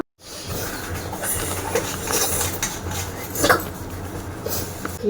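Metal utensils are washed at home, giving continuous clinking and scraping of dishes against running water, with a few sharper clatters throughout.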